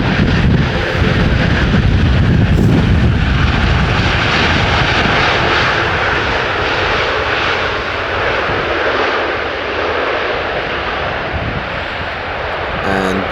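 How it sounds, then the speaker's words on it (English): A Pegasus Airbus A350 airliner landing, a loud, close jet engine roar with heavy wind buffeting that fades slightly over time, with the airport at Edinburgh. "There's a Pegasus A350 in the background as well."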